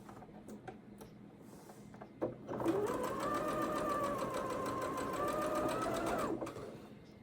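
A sewing machine stitches pinwheel quilt blocks, whirring steadily for about four seconds after a few light handling clicks, close and alone with no talk.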